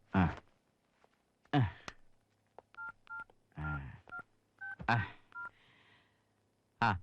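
A series of short electronic telephone keypad tones, each a quick two-pitch beep, pressed one after another with brief pauses, mixed with soft breaths and rustling.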